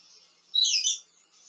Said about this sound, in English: Is that your parrot squawking?